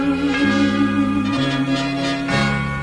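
A deep Thai Buddhist temple bell rings out with long sustained humming tones, struck again about every second, its resonance layered and loud, with no voices.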